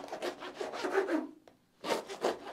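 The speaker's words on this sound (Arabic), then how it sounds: "هلا بدنا نقطع هالخبزه الحلوه ونزين وش الشوربه تبعنا" A knife saws through a loaf of bread meant to top French onion soup, making quick rasping back-and-forth strokes close up, a brief pause, then a few more strokes, with no voices.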